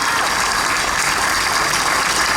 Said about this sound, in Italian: grazie degli applausi